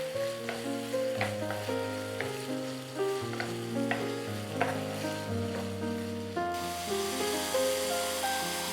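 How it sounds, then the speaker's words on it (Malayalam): Prawns sauté in a pan over a high flame, a steady close sizzle with repeated scraping stirs, while tonal music plays throughout. "നമുക്ക് ഹൈ ഫ്ലെയിമിൽ അതുപോലെ സോട്ട് ചെയ്തെടുക്കാം."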